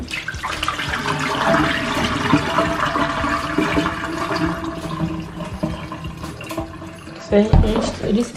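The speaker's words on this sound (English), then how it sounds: "So you wash your rice like you wash clothes." Rice being washed by hand in water sloshes and swirls, with running-water and splashing sounds close by, and a burst of sharper splashing near the end, while someone talks over it.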